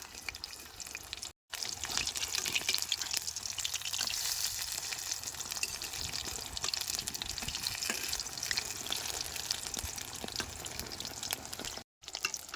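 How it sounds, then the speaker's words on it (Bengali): Gram-flour-battered fish fries in oil over a low flame, a steady bubbling sizzle with crackling pops, close and continuous apart from two short silent breaks. "উনানের আঁচটা কম রেখে প্রায় সাত আট মিনিট ধরে মাছগুলো ভাজছি"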